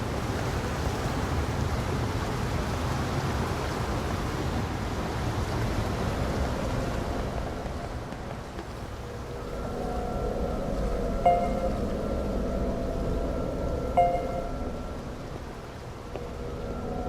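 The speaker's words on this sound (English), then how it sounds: "The only sound is the rain." Steady broadband hiss of rainfall in the video game NieR Reincarnation fills the scene, with low rumbling underneath and faint tonal hums emerging partway through, no voices.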